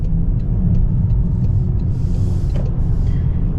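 A 2024 Toyota Corolla XSE Hatchback accelerates through its CVT gearbox, which has a first gear before the belt drive, giving a loud, steady low engine and road rumble heard from inside the cabin.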